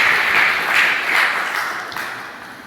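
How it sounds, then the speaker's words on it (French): Church congregation bursts into applause during a worship service, a loud, dense round of clapping from many hands that gradually fades. "Battons un applaudissement pour Jésus-Christ après nous faire l'église."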